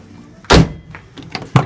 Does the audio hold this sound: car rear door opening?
yes